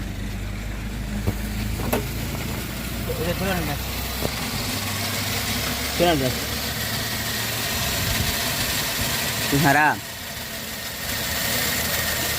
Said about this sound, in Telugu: ఇప్పుడు గేర్ బాక్స్ నాయిస్ వస్తుంది, చూపిస్తాను చూడండి